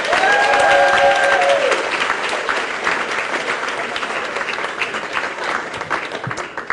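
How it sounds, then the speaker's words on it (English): Dense crowd applause, loud and sustained, with some cheering mixed in, gradually easing toward the end. "please start clapping right now for Chris Davis, everybody."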